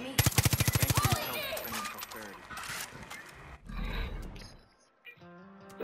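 Gunfire in the video game Far Cry New Dawn: a rapid burst of loud machine-gun shots up front, then rumbling game noise and scattered effects, with brief game voices.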